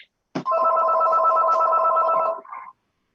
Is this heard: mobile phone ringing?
yes